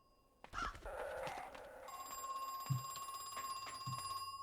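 A telephone rings inside the video game Crow Country, a steady electronic tone repeating over a quiet room ambience, with soft low thuds of movement underneath.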